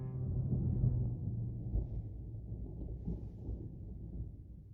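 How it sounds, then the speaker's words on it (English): Deep thunder rumbles low and heavy throughout, loudest early on and then settling into a steady rolling growl with no voices. "That thunder was relevant."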